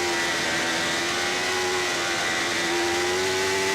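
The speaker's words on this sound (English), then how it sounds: "you just hear the engine revs building all the time." On-board Suzuki GSXR 1000 racing motorcycle at the 2002 Isle of Man TT, its engine screaming loud and continuous with a steady high-pitched whine as revs hold and build.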